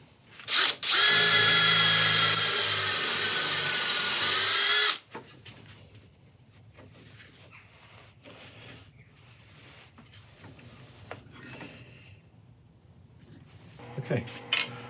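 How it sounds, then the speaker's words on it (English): Wood lathe spinning an off-centre burl for a back-to-back bowl, a loud, steady whirring drone for about four seconds that stops abruptly, followed by quieter workshop handling noises. "Okay, we're on the lathe, we're all set up and sharpened."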